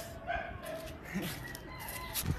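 A chicken kept at a house clucks a few brief, faint times close by, over a low background hum with no talking.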